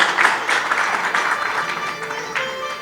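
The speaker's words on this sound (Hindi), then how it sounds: "एक बार फिर से मंत्री साहब को ताली से स्वागत कीजिए।" Devotees at a Bhagwat Katha at Gopal temple applaud a visiting minister, sustained crowd clapping that fades slightly toward the end, with a voice heard over it.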